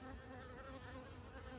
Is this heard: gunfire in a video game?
no